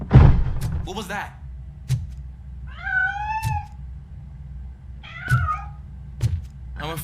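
A cat in the video game RoboCop: Rogue City gives two drawn-out, clear meows amid sharp thumps and knocks, close and fairly loud in a quiet room.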